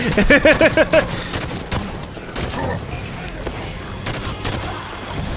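A binary rifle fires in Halo 5: Guardians, with a quick burst of loud sharp shots at the start, then scattered distant gunfire, booms and game effects as someone talks over the action.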